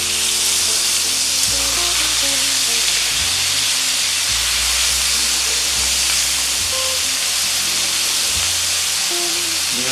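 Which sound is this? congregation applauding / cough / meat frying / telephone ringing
meat frying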